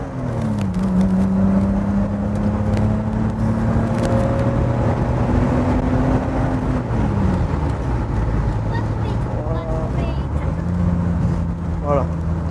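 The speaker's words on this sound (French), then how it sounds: "J'adore le bruit du 6 cylindres en ligne." An inline six-cylinder car engine revs up to about 6000 rpm, its steady multi-toned drone climbing and settling through several rev changes, close and loud throughout, with a voice at times.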